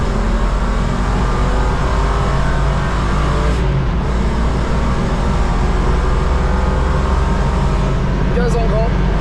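A rental BMW accelerates at full throttle around the Nürburgring, a loud, steady engine roar heard from inside the car with constant road and wind noise. A voice speaks over the engine.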